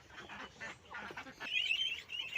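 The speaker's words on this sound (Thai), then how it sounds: "เราไปให้อาหารเป็ดที่เหลือมันมีลูกเป็ดอยู่อีกครับ" Ducks and their ducklings call at feeding time, a few quiet quacks in short bursts followed by thin, high peeping toward the end, heard fairly faint and without talk.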